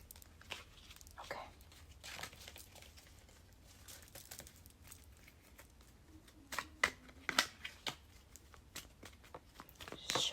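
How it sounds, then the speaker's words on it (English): Monopoly cards shuffled and sorted by hand in a quiet room, soft papery riffles and flicks with sharper snaps and taps growing louder toward the end, close and alone. "Shuffle through these a little bit,"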